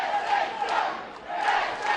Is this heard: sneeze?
no